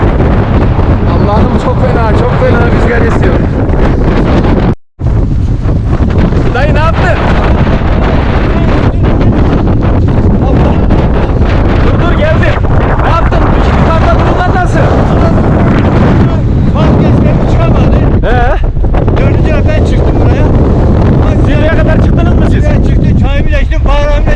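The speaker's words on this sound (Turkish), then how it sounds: "Batı tarafından çok inanılmaz bir rüzgar geldi." Strong, steady wind roars and buffets the microphone almost nonstop on the summit of Kösedağ mountain, Ağrı, Turkey, as a storm arrives, with a brief dropout partway through; loud and close throughout.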